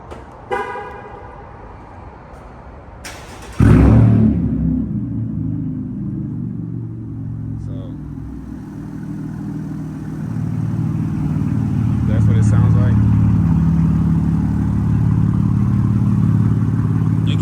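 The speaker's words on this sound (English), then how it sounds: "let me go ahead and do a remote start so y'all can hear what it sounds like" A 2018 Chevrolet Camaro 1LT RS fires up by remote start with a sharp burst, then settles into a steady, loud, deep idle rumble that swells slightly later on, close by with no talk over it.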